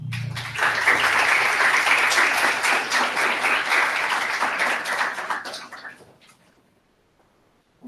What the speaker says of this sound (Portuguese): vamos receber com aplausos.